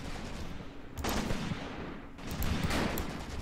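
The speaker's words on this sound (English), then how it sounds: "Alright, we're under fire." Gunfire crackles through a Graviteam Tactics battle set at Shilovo in 1942, with Soviet troops firing from trenches. Bursts of rifle and machine-gun fire pop at a middle distance in two clusters, over a constant low rumble.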